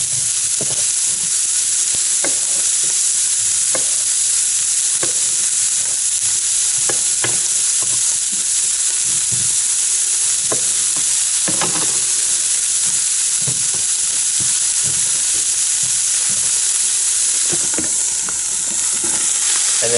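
Halved and whole large mushrooms sizzle steadily in a hot pan, loud and close, with occasional scraping clicks from stirring and no talking.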